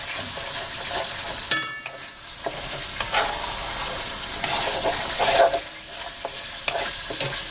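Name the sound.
frying spice paste of garlic, cumin and chili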